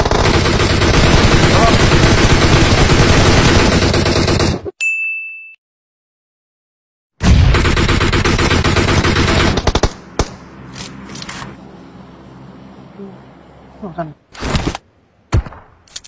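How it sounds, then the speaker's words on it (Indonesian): Automatic gunfire in the battle royale game PUBG roars loud and dense in two long sustained bursts separated by a silent gap, then trails off into scattered single shots and metallic pings. "Tembak mobilnya Ces."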